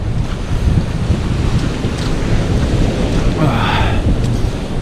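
Rough, choppy sea waves break on the shingle shore at Eastbourne, with heavy wind buffeting the microphone in a loud, constant roar and a surging wash swelling partway through.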